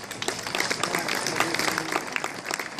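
An audience applauds a harmonica player at a performance. Steady, dense clapping from many people continues for a few seconds, with some voices faintly mixed in.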